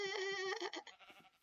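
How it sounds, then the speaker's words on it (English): Sheep in a farming video game let out a drawn-out, wavering bleat that fades into softer, choppier bleats from the flock, all fairly close and clear with no talk over them. "Look at all the sheep."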